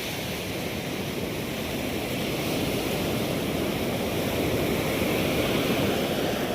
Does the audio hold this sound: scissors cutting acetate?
no